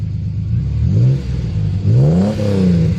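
A 1982 Ford Capri 2.8 Injection Cologne V6 engine with a stainless steel Janspeed exhaust revs up twice, rising and falling in pitch, loud and close, with a deep burbling exhaust between the blips.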